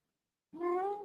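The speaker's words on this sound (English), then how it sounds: "That was my cat." A single close meow from a house cat, one drawn-out tonal cry of about half a second rising abruptly out of silence.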